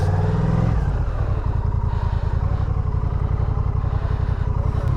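Motorcycle engine idling steadily after a crash on a mountain road trip, a close, continuous low throbbing rumble with a slight rev near the start, loud and alone.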